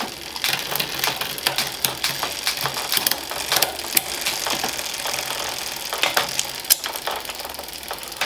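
A bicycle chain on a Pinnacle Laterite chainset whirs and ticks steadily while shifting, with irregular ratcheting clicks and light mechanical rattles close by throughout.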